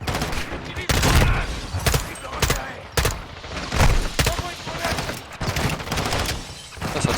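Gunfire in the Modern Warfare 2 campaign: repeated bursts and single shots crack out in an irregular rhythm, fairly loud, with some speech beneath.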